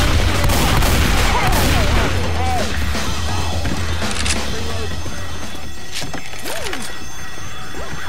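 Bursts of gunfire and heavy impacts in a Left 4 Dead 2 zombie fight, loud and close, with repeated shots, crashes and booms over several seconds while voices talk and shout underneath.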